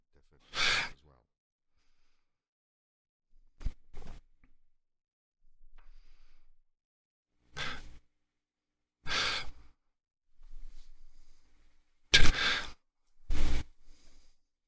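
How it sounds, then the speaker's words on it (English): Isolated breaths captured in a recorded voice track: about eight short, close inhales and exhales, some sharp and gasping, others soft sighs, scattered through long stretches of near silence. "That's definitely a breath."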